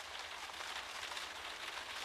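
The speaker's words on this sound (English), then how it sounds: "the patter of falling rain" Rain falls in a steady, dense patter, a continuous hiss of drops on a surface with no breaks and no voices.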